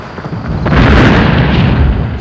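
Artillery fire in a 1941 duel at Hong Kong between Japanese guns and retreating British forces: a single heavy, loud boom swells and rumbles on for over a second, with no voices.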